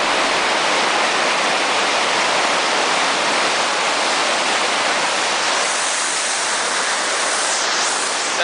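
The Passaic River at Great Falls, in flood, pours over the falls in a loud, unbroken roar of rushing water that holds steady throughout.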